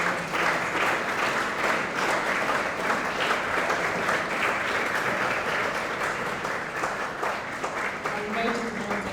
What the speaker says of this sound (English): So let us please give a warm round of applause to welcome our